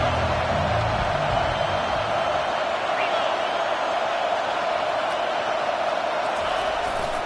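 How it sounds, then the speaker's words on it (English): Steady stadium crowd roar from a college football video game, a dense broadband wash that stays loud and unbroken throughout with no distinct cheers standing out. "this crowd is turning it up a notch"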